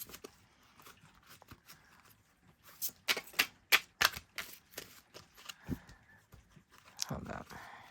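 Tarot cards are shuffled by hand close up, making bursts of rapid, crisp papery clicking and flicking. The sound is fairly quiet and scattered between stretches of talk.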